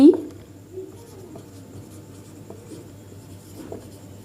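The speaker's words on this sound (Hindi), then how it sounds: "मैं यहाँ पर डेफिनेशन लिखती हूँ।" Pen or marker scratching out a definition by hand on a board during a chemistry lesson, a few faint strokes and taps over low room hum, with no talk.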